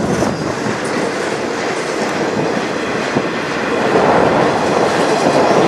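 CN freight train rolling past on the Strathroy Subdivision, a loud, steady rumble with rhythmic wheel clatter and a faint squeal, building slightly louder toward the end.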